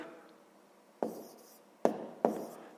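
A pen strokes out the numbers of a decimal subtraction problem during a fifth-grade math lesson, giving three short, crisp scratches spaced about a second apart in a quiet room.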